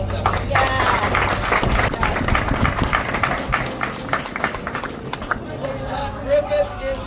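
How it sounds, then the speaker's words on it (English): A crowd at a welcome-home lunch applauds the high school coaches: many hands clap in a dense, loud burst that gradually thins, mixed with chatter and voices from the room. "A round of applause for all of them"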